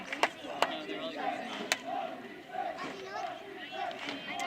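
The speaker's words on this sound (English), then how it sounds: "chants of Long Beach State coming from the crowd now" Crowd at a Long Beach State versus UCLA soccer game chanting "Long Beach State", a rhythmic chant from a distant gathering of around a thousand people, with a few sharp claps or thumps, under a commentator's voice.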